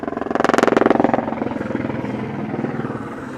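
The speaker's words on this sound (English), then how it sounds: "Told you, the helicopters." A helicopter's rotor thumps in a fast, loud rhythmic chop over a roller hockey game, peaking early and then fading steadily as it passes away.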